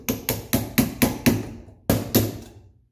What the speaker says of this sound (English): we take flathead screwdriver, hammer, and we hammer on the ridges of this nut